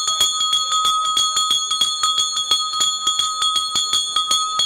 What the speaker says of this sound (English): Ringing the bell for the points competition.